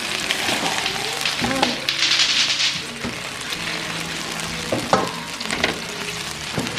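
Food fries in a pan on a stove during a New Year's Eve cookout, giving off a steady, crackling sizzle with occasional stirring clatter. People talk over the frying throughout.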